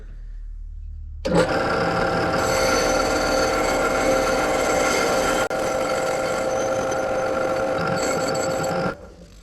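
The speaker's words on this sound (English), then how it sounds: "I'm just going to take these plates to the wire wheel here on the drill press" A drill press spins a wire wheel with a steady mechanical whir and scratchy grinding against metal plates, cleaning off burnt residue, loud and continuous, stopping near the end.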